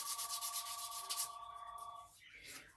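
A small truck model part is sanded by hand, making quick rhythmic rasping strokes up close for just over a second before they fade. A steady tone sounds underneath the strokes.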